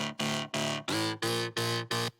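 Jump up drum and bass body bass layer from an FL Studio synth: seven punchy, buzzy sustained bass notes in a choppy rhythm, each cut off sharply with a wobbling pitch shift, loud and dry with no talking.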